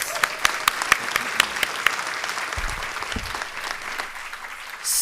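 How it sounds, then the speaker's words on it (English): Audience applause in a conference hall at a respite care plenary session, steady clapping from many hands with sharp individual claps standing out early, fading slightly toward the end. "One more time, a round of applause for Atalaya"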